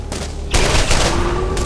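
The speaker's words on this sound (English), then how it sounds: "Okay, I like this new sniper rifle." Sniper rifle fire in the video game Borderlands comes as a loud, sharp report with a rolling burst and sustained crackle. It follows a brief quieter moment.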